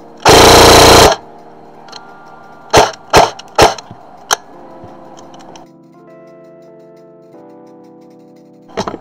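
A G&G RK74-T airsoft rifle rips off one loud, dense full-auto burst, followed by several sharp single clicks and mechanical clacks from handling, then a quiet stretch with a faint hum.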